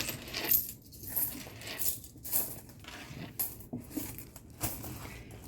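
Coins drop and clatter into a Red Horse coin bank in a quick run of metallic clinks and patters, close and fairly quiet, with no talking.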